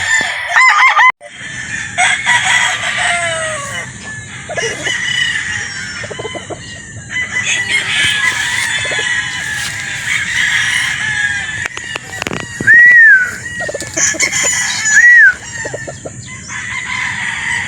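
A rooster, a broad stag game fowl, crows loudly and repeatedly, close by, with clucking and other fowl calls mixed in and no talking.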